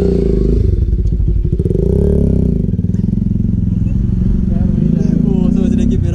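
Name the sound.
motorcycle engine and exhaust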